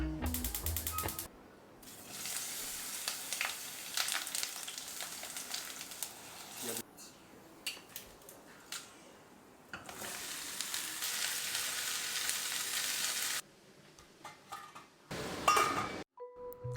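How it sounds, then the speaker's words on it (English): Vegetables for Bengali shukto fry in a pan with a steady bright sizzle that comes in long stretches, broken by short pauses and a few clinks of utensils, close up, with no speech. "While the veggies are frying, I'll make a paste of poppy seeds"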